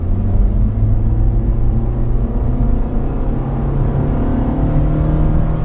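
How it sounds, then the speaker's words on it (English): A Nissan CVT whines steadily under acceleration, a loud continuous engine drone with rising tonal bands and no voices. "Well, I could whine about the CVT, or I could let it do it for you."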